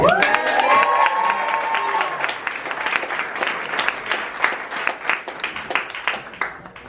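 A crowd cheering and applauding, starting with excited shouts and whoops that settle into a steady wash of clapping, moderately loud.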